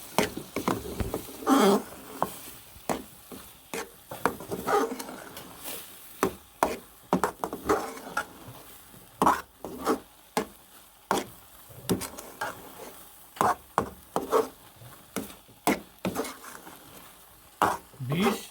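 A spoon works carrot gajar ka halwa with ghee in a pan, giving rhythmic, close scraping and clattering strokes that repeat steadily throughout.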